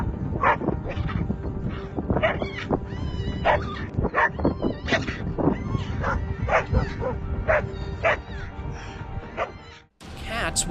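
Several dogs, including a pair of black dogs, bark repeatedly at a marmot in sharp, overlapping bursts, with yips and whimpers mixed in, close and loud throughout.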